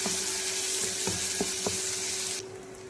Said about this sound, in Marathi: आता या कांद्याला 2 मिनिटं परतून देऊ आपण चांगलं.